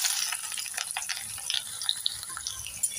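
Chopped onions fry in mustard oil with three cardamom pods, three cloves and a cinnamon stick, giving a soft, steady crackling sizzle with faint stirring and a low background hum.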